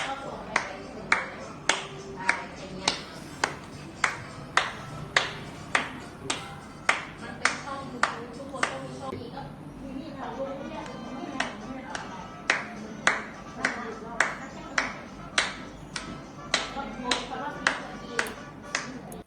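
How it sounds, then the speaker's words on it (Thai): Rhythmic single hand claps keep time at a steady beat alongside a Thai song during a grade-four physical education exercise routine, the sharp claps evenly spaced and moderately loud over quieter background music and voices. "การปรบมือให้เข้ากับจังหวะเพลง"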